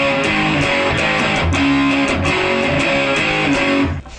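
An electric guitar through amp distortion chugs out the main riff of a song, with loud, driving palm-muted power chords in a steady rhythm that cut off abruptly at the end.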